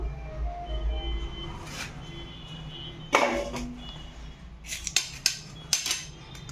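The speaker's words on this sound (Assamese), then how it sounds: "এতিয়া সৰু সৰু কৰি কাটি লম" A knife cuts watermelon rind into small pieces for halwa on a kitchen surface, giving a few sharp, scattered clicks and taps over a low background hum.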